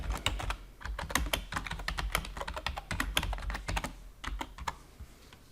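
Rapid clicking keystrokes on a computer keyboard as a device token is entered, an irregular burst of quiet close taps with short pauses and no voices.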